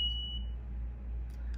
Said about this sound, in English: which creates the beeping noise